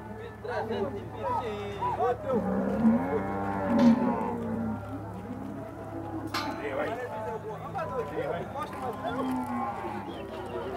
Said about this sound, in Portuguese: Val, tá comprando gado, Val?